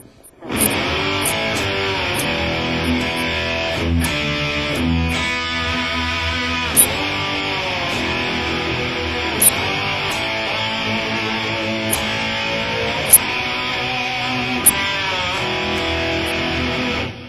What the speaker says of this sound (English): I like to just kind of pull anything that I can with the whammy, and you can get kind of a slide guitar sound.